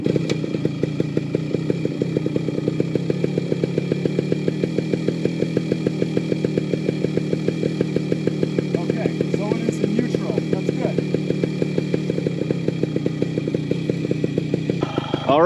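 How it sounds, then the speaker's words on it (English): A 1996 Yamaha RT100 dirt bike engine idles steadily after starting, a rapid two-stroke putter with even pulses that stays close and constant while it warms up; a voice speaks briefly over it. "I think what I'm going to do now is figure out how to fire up the bike, and we got to let it warm up"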